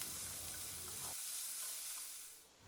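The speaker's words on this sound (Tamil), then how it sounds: "அதையும் போட்டு பொன்னிறமாக வர வரைக்கும் வதக்கி விட்டுருங்க" Finely chopped large onion sautéing in oil in a pan until golden, giving a steady, close sizzle with a soft hiss throughout and a faint stir around the middle, no voices.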